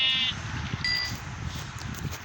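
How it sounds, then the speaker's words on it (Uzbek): Sheep bleating nearby: two short, nasal bleats, one at the very start and a fainter one shortly after, over low background rumble. "qo'ylar."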